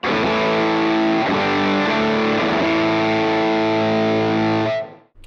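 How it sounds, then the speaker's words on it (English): Electric guitar played through a Jam Pedals Rattler distortion pedal with the gain turned up, a few loud saturated chords ringing with smooth sustained harmonics before cutting off at the end. "as you wind the gain up, the top end gets smoother."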